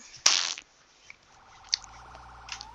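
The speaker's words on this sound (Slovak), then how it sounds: "Tak, zapíname sirény a ideme na to svetla." Fire truck sirens and lights switch on in a firefighting video game about a burning hot dog stand, starting with a sharp loud burst, then a steady electronic tone with small clicks under it.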